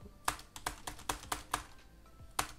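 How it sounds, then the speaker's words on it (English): Fast typing on a computer keyboard during Python coding, with a burst of sharp, evenly spaced key taps, close and fairly quiet, with no talking. "And let's type very fast and check the"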